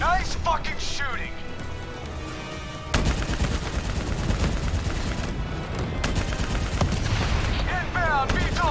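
Dense, continuous gunfire and rapid automatic bursts from the Call of Duty Black Ops 3 campaign, loud and relentless throughout, with shouted voices and whistling effects mixed into the battle din.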